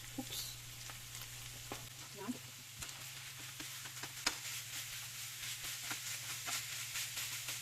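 Ground pork frying in a pan with garlic and onion, a steady soft sizzle with scattered clinks of stirring and a low hum, fairly faint and close.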